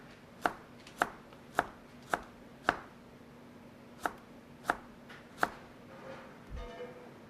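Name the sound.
knife julienning vegetables on a cutting board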